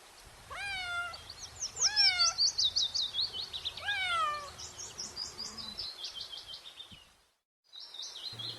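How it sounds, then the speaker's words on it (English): A cat meows several times in a row, repeated high drawn-out cries, close and clear, with a few bird-like chirps and a short silent gap near the end. "C for cat."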